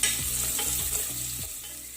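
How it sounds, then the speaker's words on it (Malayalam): Sliced shallots frying in hot ghee, a loud, steady, close sizzle with soft rhythmic stirring scrapes repeating about every half second, no speech. "ഇനി ഇതിലേക്ക് വട്ടത്തിൽ അരിഞ്ഞെടുത്തിട്ടുള്ള നമ്മളെ ചുവന്നുള്ളി ചേർത്ത് കൊടുക്കുകയാണ്"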